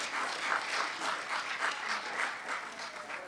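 A legislature chamber fills with soft, steady applause after a bill is adopted, the clapping rolling evenly and sounding fairly distant.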